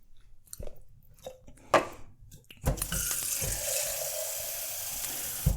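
Water poured into a container to mix a honey sauce for pepper rice, a sudden steady splashing stream after a few clinks and handling noises, close and continuous.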